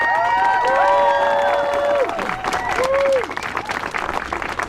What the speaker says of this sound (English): How about a bigger round of applause for Michelle?